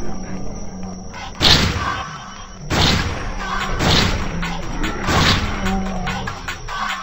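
Shotgun blasts from the Zombocalypse video game, four heavy booming shots spaced about a second apart, each with a sharp attack and short decaying tail, loud and close over faint background game noise.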